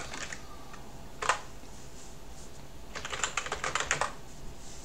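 Computer keyboard typing during a Fedora 28 Linux setup: a quick burst of keystrokes, a single sharp tap, then a rapid cluster of clicks, fairly close and moderately quiet over faint room noise.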